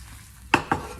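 A metal spatula scraping under breakfast food on a hot, sizzling griddle: two quick scrapes close by over a low background hiss, with no voice.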